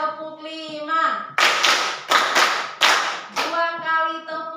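A classroom clapping in counted rhythm, groups of sharp claps interleaved with a voice calling the count, close and lively.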